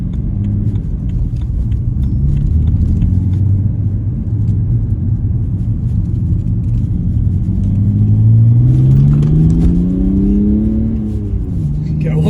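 A BMW E91 330d diesel estate with a sports exhaust rumbles steadily in a deep drone from inside, its pitch rising as it accelerates.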